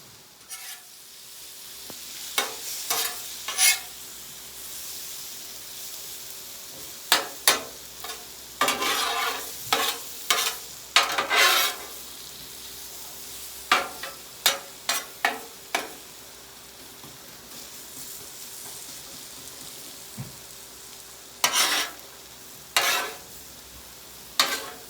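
Sweet potatoes stirred on a hot griddle, a steady soft sizzle broken by repeated scraping bursts of a utensil, irregular and close, with no talking.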